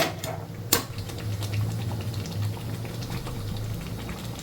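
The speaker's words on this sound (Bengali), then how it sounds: "এবার মাংসটা আস্তে আস্তে কষানো হবে" Chicken meat sautés slowly in a pot with dried chilli powder and yogurt for a curry, a faint bubbling simmer with a sharp clink near the start and a low background hum.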